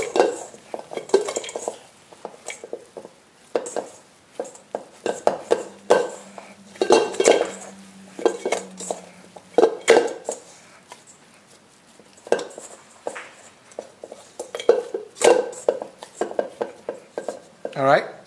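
Clattering and scraping of utensils against a bowl while dried strawberries, blueberries and raspberries are worked into whole grain bread dough, an irregular run of close knocks and stirs with pauses.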